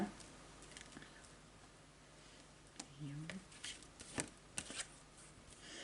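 Tarot cards are shuffled and laid out on a table. Faint, close papery shuffling and soft slaps of cards being set down sound under a person talking.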